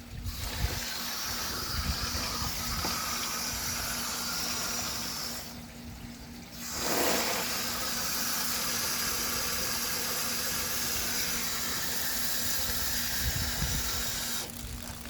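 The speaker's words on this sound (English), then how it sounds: "The water drains out when it passes the level of the pipe." Water from a hydroponic garden setup runs and drains through a 2-inch pipe, a steady rushing, trickling flow with a constant low hum underneath, fairly faint and continuous with a brief dip midway.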